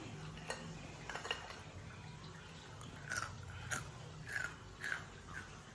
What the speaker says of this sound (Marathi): कशी झाली कुरुम कुरुम वाजते हो